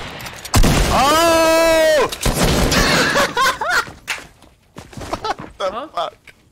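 Single sharp sniper-rifle crack from a bolt-action weapon in the Fortnite video game, loud and close at the start, followed by a sustained tone, excited shouting and laughter from players.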